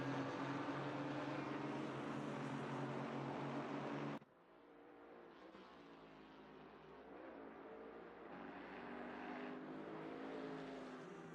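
GT4 race cars lapping Imola in Assetto Corsa Competizione, a loud steady engine drone that cuts sharply and returns as a softer, rising whine of several cars passing, with no talk.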